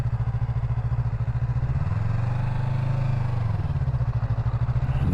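A Yamaha MT03 motorcycle rolls along slowly at low speed, its engine giving a steady, close, loud throbbing drone with a slight rise in pitch midway, and no talking.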